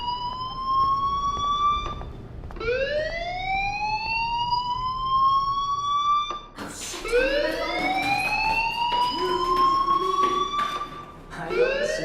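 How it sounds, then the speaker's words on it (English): Fire alarm in the video game Life is Strange: a loud, wailing electronic tone sweeps upward repeatedly and in overlapping layers, continuing throughout with no speech. "Hey, do you hear that fire alarm?"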